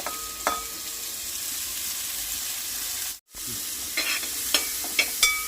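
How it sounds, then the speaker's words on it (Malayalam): Onions sizzle in hot oil in a pan, a steady soft frying hiss with a few sharper crackles and stirring scrapes near the end, broken by a momentary dropout. "നല്ലോണം ആ എണ്ണയിൽ തന്നെ ഇട്ടുകാണ്ട് നല്ലോണം മൂക്കിക്കണം"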